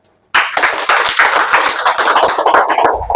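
An audience bursts into clapping after a short silence, a steady patter of many hands continuing close and lively until the end.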